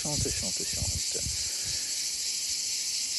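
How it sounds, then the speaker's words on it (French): Steady high-pitched insect trilling fills the background like crickets, with a soft airy hiss; a low voice murmurs briefly at the start. "dans cet espace nature où les grillons et le vent chantent"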